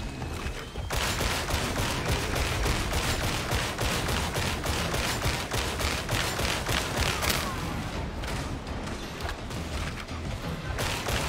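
Gunfire in Warhammer 40,000: Darktide, with a sustained, rapid burst of automatic shots hammering loudly for most of the stretch and mechanical clatter mixed in. The firing cuts in after a brief pause at the start and eases slightly near the end.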